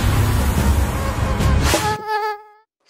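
Mosquito buzzing in an Indian insecticide TV ad, a thin whining drone that rises close and loud, then cuts off into silence.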